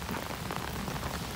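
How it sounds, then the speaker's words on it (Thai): Rain falling outdoors near trees in Thailand, a steady, dense hiss of drops on surfaces without pause, fairly quiet and even. "ฝนก็ตก"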